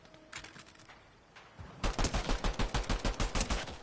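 Rapid automatic gunfire from a weapon in Fortnite: after a quiet, hissing lead-in, a loud, steady string of about a dozen evenly spaced shots rattles off close by.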